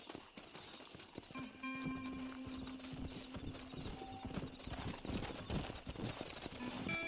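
Hooves clip-clop rhythmically as a horse gallops in a western video game, close and steady throughout, with a brief whinny and faint ambient game sounds behind.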